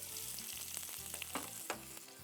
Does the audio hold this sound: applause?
no